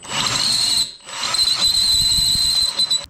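A power drill grinds through metal on a 1989 Suzuki RM250 dirt bike with a piercing high squeal, cutting out briefly before shrieking steadily again.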